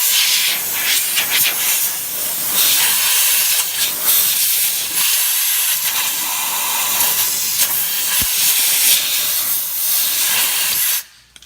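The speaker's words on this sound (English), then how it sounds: "and use some compressed air" Compressed air blows over the driver's side axle seal area of a Ford 6F50 six-speed transmission, a loud, steady hissing blast that lasts for most of the stretch and cuts off abruptly near the end, with no voices.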